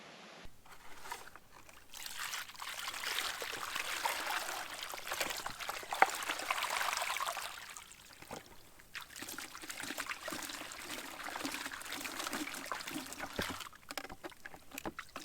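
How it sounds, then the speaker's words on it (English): Water swirls and sloshes in a gold pan while flood gold is panned outdoors, a soft continuous washing and trickling that rises and falls in gentle waves, fairly faint with no talking. "I'll pan this off and we'll see if we've got any colour."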